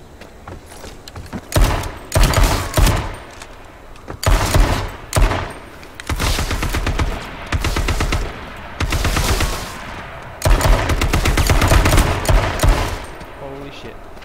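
Repeated bursts of AK-47 automatic fire in the H1Z1 battle royale game, loud and close, coming in several separate volleys with short gaps between them.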